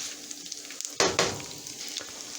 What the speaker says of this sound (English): I'm gonna squish them down a little more. They got to cook.